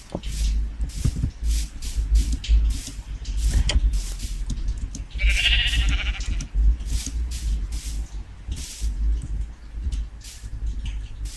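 A Minecraft sheep bleats a few times over a steady game-world ambience with soft footsteps and shuffling, the bleats moderately close and clear.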